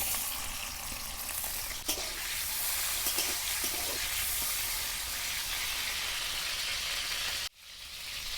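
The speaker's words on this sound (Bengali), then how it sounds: "তেলটা গরম হয়ে গেছে, এর মধ্যে পনিরগুলো আমি দিয়ে দেব।" Paneer frying in hot oil in a wok gives a steady close sizzle and hiss with faint stirring scrapes, cutting off abruptly near the end, with no talking.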